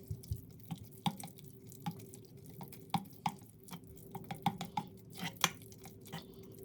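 Spoon stirring creamy mushroom risotto in a pressure or slow cooker pot, soft irregular clinks and taps against the pot at close range, quiet and unhurried.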